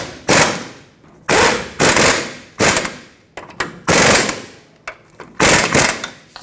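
A pneumatic impact tool snugs the differential mounting bolts on a 2003-2012 Chevrolet Colorado, firing six or seven loud, rattling bursts of about half a second each, separated by short pauses.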